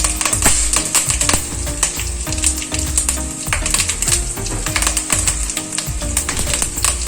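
Mustard seeds, cumin, garlic and dried chillies fry in hot oil for sambar, giving a loud, dense, steady crackle of rapid pops and sizzling that continues throughout.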